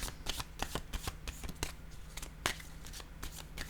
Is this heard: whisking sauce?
no